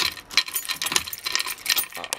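A bunch of keys jangles and clinks in irregular bursts close by while someone hunts through the set for a large key, with no talk.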